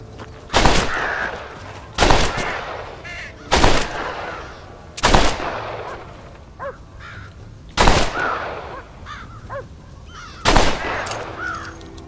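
Single gunshots ring out in Red Dead Redemption, six sharp reports at irregular intervals of about one to three seconds. Crows caw between them, and the game's ambient sound runs underneath.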